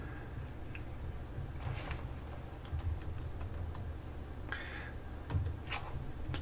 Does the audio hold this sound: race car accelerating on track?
no